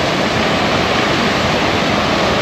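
Small waterfall with only a modest flow trickling down colourful rocks into a crystal-clear pool in Cape York, Australia, giving a steady, close, broadband rush of splashing water throughout, with no voices.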